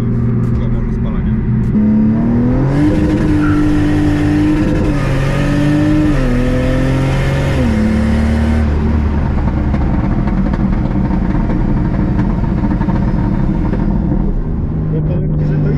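A Datsun 240Z race car with methanol injection into the intake accelerates hard, its engine climbing through rising revs with gear changes, loud and continuous from inside the car while people talk over it.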